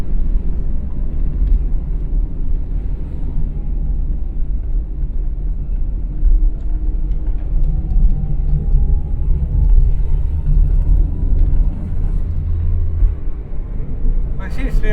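Inside a Renault 9 car as it drives along after an oil change and carburettor work, a low engine and road rumble continues steadily for the whole stretch, with faint voices at moments.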